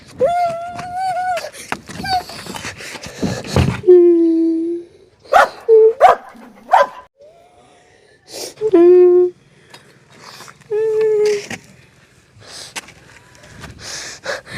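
A dog barks and yelps repeatedly in uneven bursts, some whining, close by with pauses between outbursts.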